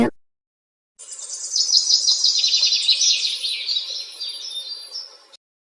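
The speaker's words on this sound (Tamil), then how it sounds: "இப்படி நினைச்ச பறவைகளும் பிறகு சத்தம் போட ஆரம்பிச்சாங்க." A flock of birds calls loudly together in a dense, continuous chatter of high chirps and tweets that runs for several seconds before stopping abruptly, with no voices.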